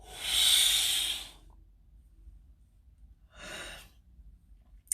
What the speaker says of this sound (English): you're going to inhale